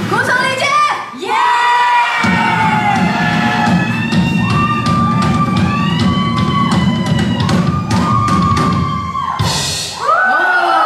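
A band concert audience cheers and whoops loudly over sustained musical tones, with shouting voices rising and falling and a burst of crowd noise near the end.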